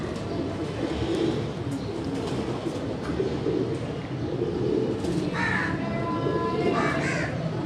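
Pigeons coo on a Karachi rooftop amid a constant murmur of ambient noise, with crows cawing now and then nearby.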